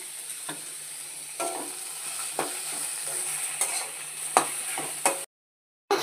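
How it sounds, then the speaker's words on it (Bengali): Shredded, drained bottle gourd frying in ghee for a sweet gourd pudding: a soft steady sizzle broken by repeated scraping stirs of a spoon in the pan, then a brief silence near the end. "সেই শুকনো লাউটাকে আমি ঘি দিয়ে পরিপাটি করে ভাজছি।"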